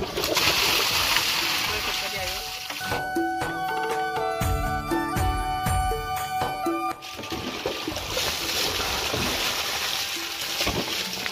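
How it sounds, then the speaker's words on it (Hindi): Cold spring water splashing over people bathing outdoors in a hill village, with bursts of splashing at the start and end and a stretch of tonal sounds in between, under a noisy outdoor mix. "तो देखिए जी, ठंडा पानी पड़ते ही भाई साहब को होश आ गया।"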